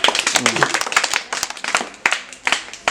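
A classroom of students claps for a correct answer, a quick patter of many hands lasting a few seconds, close and lively, with voices mixed in.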